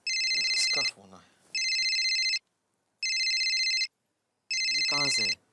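A phone ringtone plays in four loud, repeated electronic bursts, with a voice speaking briefly in the gaps between rings.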